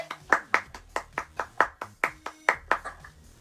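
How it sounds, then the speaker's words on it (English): A small child claps hands about a dozen times in an even, close rhythm that slows slightly toward the end. "Clap, clap, clap, clap. Good job."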